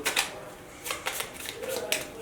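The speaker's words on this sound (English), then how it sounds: "give them a shuffle" Playing cards for the board game Roll for Adventure are shuffled close by in several quick riffling bursts, soft and crisp, with faint speech underneath.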